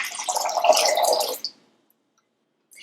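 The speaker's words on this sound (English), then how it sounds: "I'm going to thin this out with 3 cups of cold drinking water" Cold drinking water pours into a lemon sugar syrup in a steady, splashy stream for about a second and a half, then stops abruptly into near silence.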